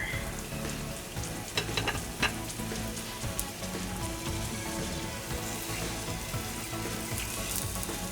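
Hotteok, Korean filled pancakes, fry in a pan with a soft, continuous sizzle and faint crackling pops, fairly quiet and close, with no talking.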